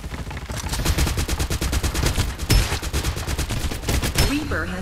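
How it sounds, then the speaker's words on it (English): Sustained rapid automatic gunfire from the Android shooter Farlight 84 in a team deathmatch, loud and dense with fast repeating shots and a sharper blast partway through, no pauses. "Exchanging fire."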